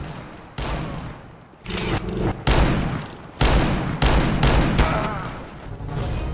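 R8 Revolver pistol fire in the game CS:GO during a deathmatch, heard as a dense run of loud, close gunshots and thumping bursts one after another, with quieter stretches between volleys and brief, faint talk at times.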